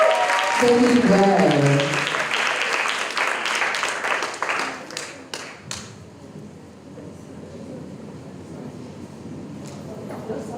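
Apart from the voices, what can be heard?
audience clapping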